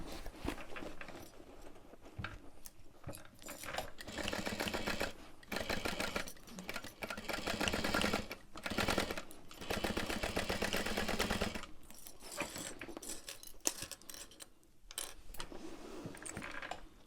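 A sewing machine stitches across the side of a fabric bag in several bursts of rapid, close mechanical whirring, with short pauses between runs.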